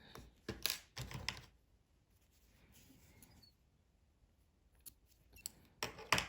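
Scissors snip crochet yarn in a few sharp, close cuts, clustered in short bursts at the start and end with a quiet pause between, no talk.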